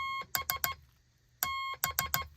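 A tone keyed on a straight key, Morse code letter B: a dash followed by three short dots, played twice with a pause between, crisp and clear with no voices.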